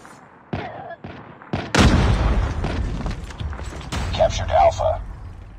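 A frag grenade detonates with a loud boom in the mobile shooter Call of Duty Mobile, a burst of blast and gunfire clutter rising suddenly amid ongoing combat noise and in-game callout voices.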